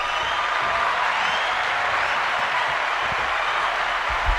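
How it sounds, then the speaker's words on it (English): A crowd of grown-ups claps and cheers steadily for a little kid dancing in a Compton neighborhood, a dense, continuous wash of applause and crowd noise with no pauses. "A little kid and the grown folks is cheering it on."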